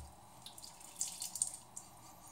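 Water running and dripping softly as a shaving brush is rinsed out, a quiet trickle with a few small splashes and drips.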